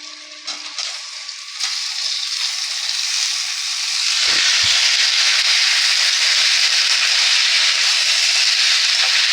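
Eggplant pieces hitting hot oil in a pan with already-fried potatoes for a Bengali aloo begun dish, giving a steady, loud sizzle that swells and holds after the vegetables go in.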